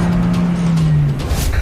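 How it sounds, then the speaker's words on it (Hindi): A car engine drones steadily close by, then eases off as the vehicle drives away, a loud continuous hum with a slight drop in pitch toward the end. "वो देखो गाड़ी से भाग रहा है"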